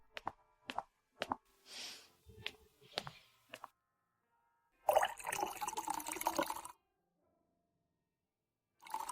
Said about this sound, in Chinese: 开瓶红酒，谢谢。